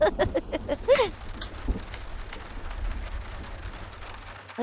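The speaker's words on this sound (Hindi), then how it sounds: "बारिश होने वाली है, कंबल लेकर सोना।" Steady rain falls as a dense hiss through a horror film scene, with a low rumble underneath and a few brief sharp sounds over the top.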